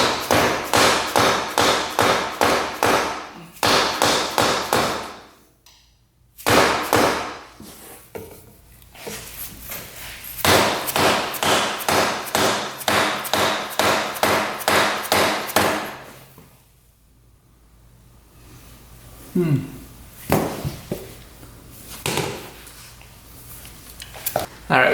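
Repeated hammer blows pound on a stuck motorcycle engine part held by an old gasket, fast bursts of close, loud thuds with short pauses, while people talk between strikes.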